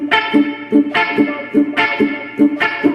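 Muted electric guitar chucks strummed in a steady offbeat reggae rhythm, each short choppy stroke washed in reverb, played alone and up close.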